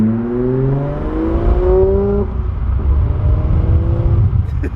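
A supercharged Audi S4 with an upgraded intake revs under throttle; a rising tonal whine climbs over the engine for a couple of seconds before easing into a steady, moderately loud engine hum.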